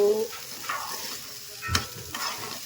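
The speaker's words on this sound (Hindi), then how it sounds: "तो मैंने सोचा कि मिर्ची के साथ इसको फ्राई कर लेती हूँ" Leftover rice fries with chillies in a pan, giving a steady close sizzle with scraping stirs and a sharp clack of the spatula partway through.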